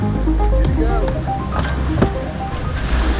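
A boat idles out on Kentucky Lake before a bass fishing tournament takeoff, a steady low engine rumble mixed with water and wind noise throughout.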